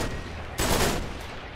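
A burst of gunfire in the Uncharted 3: Drake's Deception video game, with a loud broadband volley lasting about half a second over a steady background of game noise.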